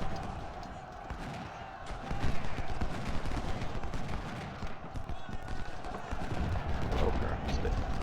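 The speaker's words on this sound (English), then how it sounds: "Get a volley in." Musket volleys crackle in the Civil War strategy game Ultimate General: Civil War at the battle of Cross Keys. Dense, overlapping rifle fire rattles continuously at mid distance, with bursts of popping shots and occasional heavier thuds.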